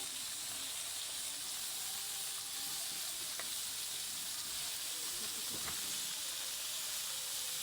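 Cabbage leaves frying in a pan with ginger paste, a steady low, faint sizzle and hiss running throughout, with a couple of soft stirring clinks.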